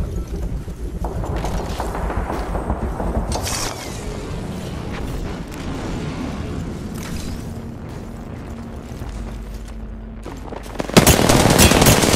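Gunfire in the Apex Legends battle royale, rapid bursts and shots crackling through busy game noise with a loud burst near the end.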